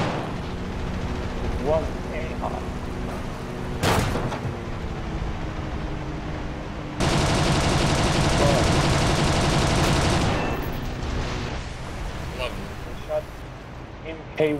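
Bursts of 30mm MK 108 cannon fire from a bomber in a War Thunder custom game on Wake Island: a sharp blast, then a loud sustained stretch of rapid firing lasting several seconds, with a voice talking under the gunfire.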